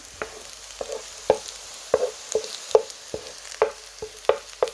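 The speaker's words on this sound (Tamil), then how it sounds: "இப்போ வந்து உள்ளி போட்டு வதக்குறோம்." Garlic sautéing in a pan with onion and curry filling for potato patties, heard as a run of sharp spoon-against-pan scrapes and taps roughly twice a second over a soft sizzle, close and moderately loud, with no talk.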